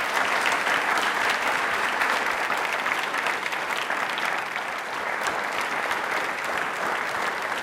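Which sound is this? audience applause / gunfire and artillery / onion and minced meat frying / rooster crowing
audience applause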